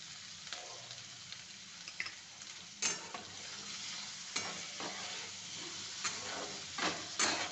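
Capsicum stirred through hot oil in a pan gives a steady close sizzle, broken by occasional sharp spatula scrapes and taps against the pan, with no talking.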